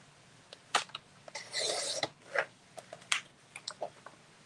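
A paper hinge for a mini album cover is trimmed with a series of short, close, crisp rasping cuts and scrapes, some quick ticks and one longer rubbing stretch.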